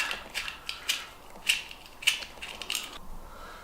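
A bolt turns through a homemade wind vane remote control, giving a series of small clicking, ratcheting squeaks in uneven bursts, close and fairly quiet.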